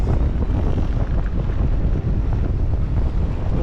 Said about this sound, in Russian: Не, ветер тут дует